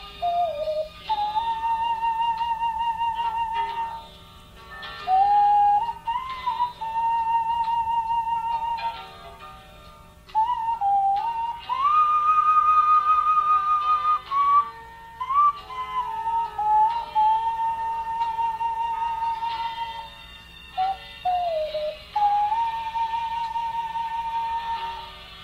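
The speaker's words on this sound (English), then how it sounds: "She cups her hands together and blows on her thumbs. She makes different notes by controlling the volume of air with her fingers." A woman hand whistles by blowing across her thumbs into cupped hands, producing a string of clear, pure tones. She shifts between different notes in melodic phrases with brief pauses, close and steady, with no talking.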